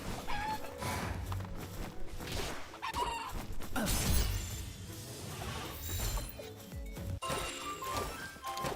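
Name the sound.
chicken clucking in a video game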